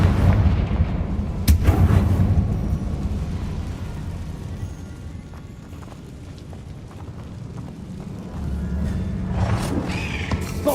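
Confringo explosive spell blasts in Hogwarts Legacy: heavy booming bursts with a deep rumbling roar, a big hit early and a sustained low battle din afterward, loud and alone with no talk.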